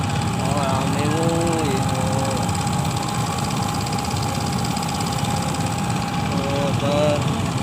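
A motorbike engine runs steadily throughout at close range, a constant broadband rumble, while voices talk over it with some animal-like calls mixed in.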